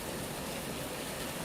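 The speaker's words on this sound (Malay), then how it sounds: "Sebabnya hujan lebat sini." Heavy rain falling in Johor, a continuous even hiss of downpour that stays fairly faint and steady with no talk over it.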